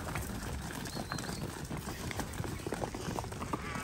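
Horse hooves clip-clop in a busy, noisy outdoor stretch during a cattle-catching run on horseback. Steady uneven thuds continue for the whole moment, mixed with background noise.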